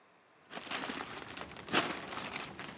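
A plastic nursery pot around a Sky Pencil Japanese holly's root ball crinkles softly as it is pulled away outdoors, a faint, close, continuous rustle with one brief sharper crackle midway.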